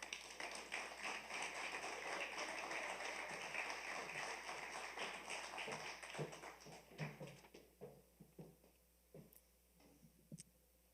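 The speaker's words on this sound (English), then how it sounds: "Let's give Tara Lapointe a round of applause." Dense, steady applause from the audience at the 24th annual RBC Spirit of the Capital Youth Awards ceremony, holding for several seconds before thinning into a few scattered, isolated claps that trail off.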